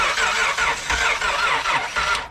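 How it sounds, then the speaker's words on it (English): A truck engine cranking on a weak battery, with a fast, steady, labored starter rhythm churning loudly and close for about two seconds before cutting off, no voices. "let's go ahead and hear the motor, see how it sounds, the cadence"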